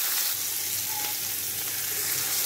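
Sole fillets fry in a pan with a steady, bright sizzle, close and continuous, with no voices.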